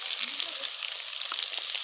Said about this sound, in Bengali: এবার আমি এই পেঁয়াজ কুচনোগুলো দিয়ে দিচ্ছি